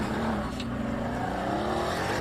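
Supercar with a quad center-exit exhaust revs and drives, a dense continuous engine roar with a rising pitch, steady and moderately loud with no talk over it.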